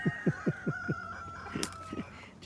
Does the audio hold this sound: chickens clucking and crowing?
yes